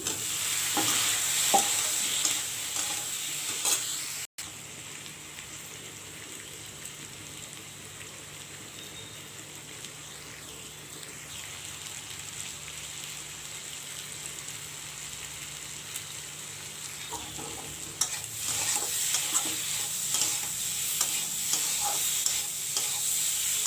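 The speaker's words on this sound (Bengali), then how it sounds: "ভালো করে কষিয়ে নিয়ে মশলাটা, তো আলু দিয়ে দেবো এখন" Spice paste of cumin, coriander and chilli with potatoes sautéed in a pan, a steady close sizzle with repeated stirring scrapes, quieter in the middle stretch and busier again toward the end, no speech.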